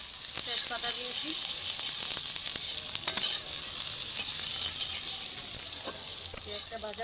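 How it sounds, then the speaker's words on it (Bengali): Onion and bay leaf frying in oil in a kadai with ginger and garlic, a constant close sizzle with scrapes and taps of stirring, and a faint voice speaking in the background. "পেঁয়াজটা ভাজা হয়ে যাক"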